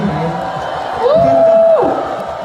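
A concert crowd of fans applauds and cheers in a steady, dense roar, and a thin whistle-like tone rises briefly above it midway.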